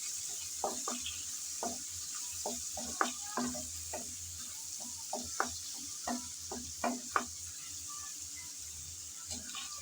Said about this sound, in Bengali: পেঁয়াজ কুচি দিয়ে হালকা করে নেড়ে চেড়ে ভেজে নেব।